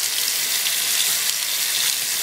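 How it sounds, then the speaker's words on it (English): Hot water flushing wet dust out of an MSI GT780 laptop's heat sink radiator, a steady close hiss of running water that holds even throughout. "Just use some hot water to flush it."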